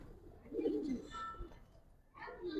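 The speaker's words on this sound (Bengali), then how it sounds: "আজকের কবুতর ডাকা ডাকি স্টার্ট করে ভাই" Giribaz and colored pigeons coo in low, throaty phrases, with two soft bouts close by and quiet background noise.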